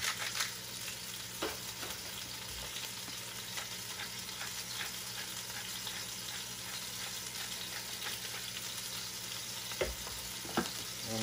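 Ground beef fries in a little oil in a cast iron pan, crackling and sizzling steadily with scattered sharp pops and occasional stirring scrapes. It is fairly quiet and unbroken by speech.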